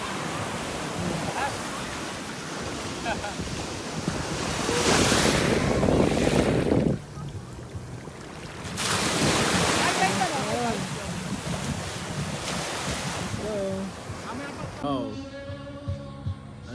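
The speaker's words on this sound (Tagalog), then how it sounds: "Ang lakas ng alon!" Strong ocean waves crash and roar continuously alongside gusty wind at Camponés Island, Zambales, with people talking excitedly over the surf.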